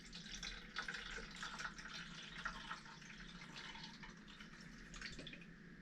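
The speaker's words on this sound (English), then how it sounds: "And now I'm gonna add the water." Water trickles and splashes as it is poured into the reservoir of an AeroGarden Sprout indoor garden, a faint, steady pour that runs throughout.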